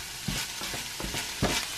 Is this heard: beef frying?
yes